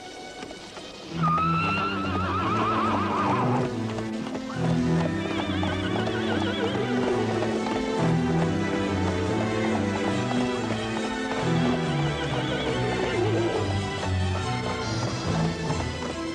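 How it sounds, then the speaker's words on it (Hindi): A horse in an animated series whinnies while its hooves clip-clop steadily, with repeated neighs rising over continuous hoofbeats and a musical background throughout. "मुझे एक दूसरा घोड़ा मिला है।"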